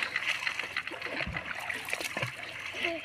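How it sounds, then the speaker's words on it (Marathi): Water splashing and sloshing as people swim in a deep river, close, irregular splashes with a faint trickling undertone and no talk. "आज बिंदाच 20 ते 30 फुटाच्या पाण्यामध्ये पोहत आहेत"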